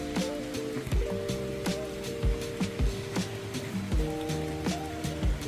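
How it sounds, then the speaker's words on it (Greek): Rain falls outside on a small balcony, a steady patter with heavier drips and splats landing at irregular intervals, fairly close. "Τώρα βρέχει."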